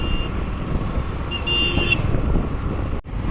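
Evening road traffic in Coimbatore, India, makes a steady dense rumble, with brief car horn toots near the start and midway. Nobody speaks.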